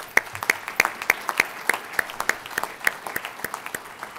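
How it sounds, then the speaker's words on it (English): Scattered applause at a college graduation ceremony, with distinct individual claps, moderately distant and fairly quiet, continuing steadily throughout. "Let's give him a big round of applause."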